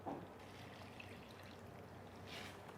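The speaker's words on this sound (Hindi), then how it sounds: "अभी हम इसमें थोड़ा सा पानी डालेंगे" Water trickles from a quarter-cup measure into a pan of thickening barbecue sauce with cornflour, a soft steady stream that stays faint and close throughout.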